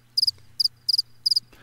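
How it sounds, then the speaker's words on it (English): A cricket chirping sound effect: four quick bursts of bright, high trills, each made of two or three rapid pulses, heard alone against near silence. "Cue the crickets."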